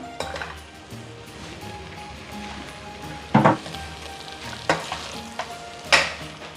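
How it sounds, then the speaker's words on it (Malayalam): Beef goes into hot garam masala in a pan for beef mappas, frying under a continuous sizzle while repeated stirring scrapes and clanks punctuate it at close range. "നമുക്കിതിലേക്ക് എടുത്തു വെച്ചിരിക്കുന്ന ബീഫ് ഇട്ട് കൊടുക്കാം"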